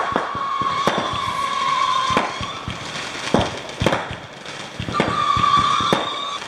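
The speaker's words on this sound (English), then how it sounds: "The neighbors next door, they're launching fireworks." Sharp fireworks bangs and crackles pop repeatedly nearby, irregularly spaced, over a steady background hiss.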